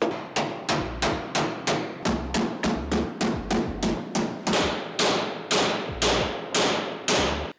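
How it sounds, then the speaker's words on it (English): A hammer and mallet beat a bent, crinkled Mustang metal part, about twenty sharp, ringing blows in a steady rhythm, close and loud, with no talking. "after a good beating with the hammer and the mallet, it's now a different shape"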